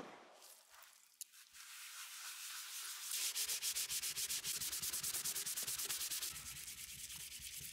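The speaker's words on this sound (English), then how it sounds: "I spent a few minutes polishing both sides" Plastic polished by hand with Novus plastic polish: after a quiet start, steady rhythmic rubbing strokes, close and fairly loud, continue alone for several seconds.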